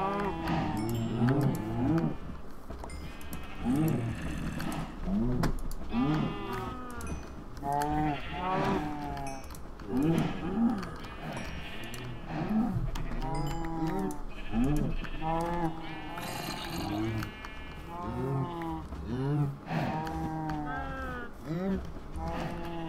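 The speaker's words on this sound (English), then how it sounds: "killed a few more cows, as you can see" Cows in the Minecraft video game moo again and again with drawn-out, wavering calls that overlap one another over about twenty seconds, steady and fairly loud throughout.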